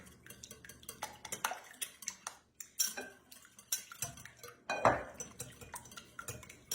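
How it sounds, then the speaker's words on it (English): Pancake batter ingredients being whisked in a bowl at home, heard as a close, fast run of light metallic clinks and scrapes with uneven bursts and no talking. "Going to give them a little whisk just so that they're easy to mix up in our batter."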